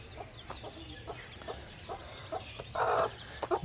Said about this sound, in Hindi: अभी आपको मैं दिखाता हूँ मुर्गी हमारी